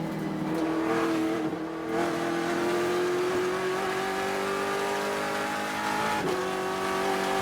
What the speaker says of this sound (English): I think the leaders just came through the start-finish line